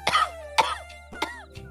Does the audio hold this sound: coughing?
yes